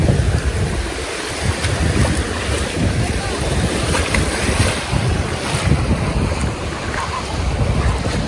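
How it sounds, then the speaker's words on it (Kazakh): Waves and wind at Clearwater Beach, Florida: a steady roar of surf washing in under constant gusty wind buffeting the microphone, loud and continuous throughout. "Clearwater Beach пляжы."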